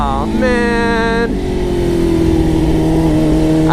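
Suzuki GSX-R 600 sports bike revving hard in a quick clutch-wheelie attempt, engine note climbing and holding loud and close for a few seconds.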